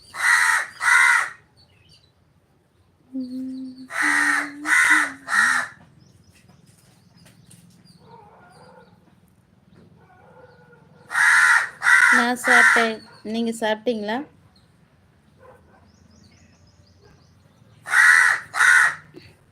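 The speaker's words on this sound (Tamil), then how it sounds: "காக்கா கத்துது" Crows caw repeatedly in short bursts of two to four harsh calls, fairly close and loud, with a person speaking in Tamil between the bursts at a family home.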